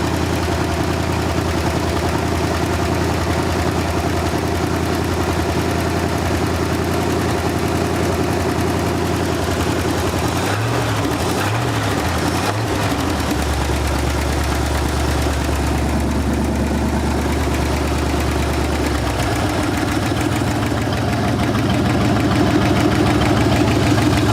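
An abandoned 1974 Ford Bronco, revived after decades sitting, idles loud and close throughout, a rough steady engine drone with a brief uneven stumble midway before settling back into its low rumble.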